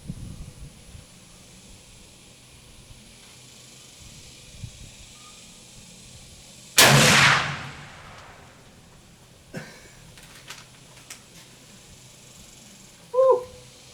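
A single loud gunshot is fired at a bullseye target outdoors, one sharp blast that rings out briefly against quiet ambient background, followed later by faint knocks.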